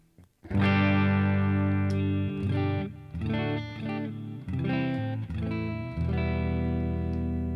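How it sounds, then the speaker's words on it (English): An electric guitar played through a Boss Katana MKII amp on its full clean preset, sustained, ringing chords strummed loud and close, several changes with brief gaps between them, no talking. "Let's look at full clean."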